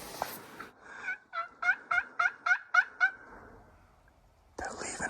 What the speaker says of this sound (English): we've got turkeys right over the ridge from us, coming down on top of us.